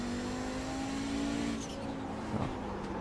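A race car engine in the iRacing sim revs steadily with a high droning tone, then a gear shift breaks the pitch and the revs climb again, fairly loud and close.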